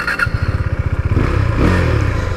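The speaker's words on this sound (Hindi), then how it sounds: "सबसे पहले यार आपको इसका एग्जॉस्ट थम सुना देता हूं मैं" A KTM Duke 390 motorcycle's exhaust thumps in a loud, close, rapid pulsing idle, then rises into a throttle blip with a rougher, fuller roar.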